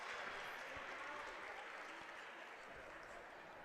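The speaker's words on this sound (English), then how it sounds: "her brother in the crowd gave her applause" Faint, distant crowd applause fills a gym at a Fredericktown versus Utica girls' basketball game, a steady wash of clapping with some murmur mixed in.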